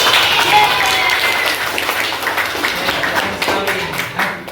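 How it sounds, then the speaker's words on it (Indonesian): A class claps together in a sustained burst of applause during a micro-teaching lesson, fairly close, with some voices mixed in beneath the clapping. "Tepuk tangan untuk kita semua."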